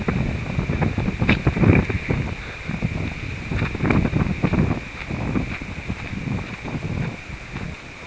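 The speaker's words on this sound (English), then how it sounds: "it is, again, blustery day" Gusty wind buffets the microphone outdoors on a blustery day, rising and falling in uneven rumbling bursts with faint rustling underneath.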